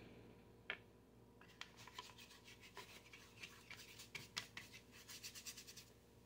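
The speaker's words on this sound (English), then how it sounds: "And dry brushing, more dry brushing." Dry brushing paint onto a 1/6 scale Masterpiece Models time machine kit: faint, close bristle scrubbing in quick, uneven strokes that speed into a steady rhythmic rasp, heard alone.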